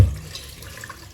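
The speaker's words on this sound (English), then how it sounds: "Always make sure to rinse your face very well." Tap water running and splashing while a face is rinsed at a sink, a steady close wash of water with no talk.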